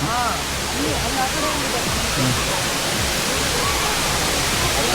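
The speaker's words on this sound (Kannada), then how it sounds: "ಇದೇ ವಾಟರ್ ಫಾಲ್ಸ್." Steady broadband roar of a waterfall on the Gangadikal trek in the Western Ghats, continuous and fairly loud throughout, with a voice faintly audible beneath the rushing water.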